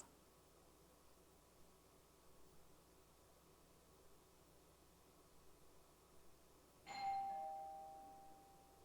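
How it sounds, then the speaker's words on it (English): A doorbell rings once at a home, a bright sustained electronic chime standing out clearly against quiet room hiss, then slowly fading away with no one talking. "somebody's ringing my doorbell"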